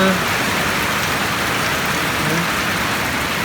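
Steady rain pours down in Batticaloa, a dense, even patter on surfaces that stays constant throughout the short stretch.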